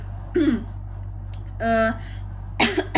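A few coughs and throat-clearing sounds, close and moderately loud, spaced apart over a constant low electrical hum.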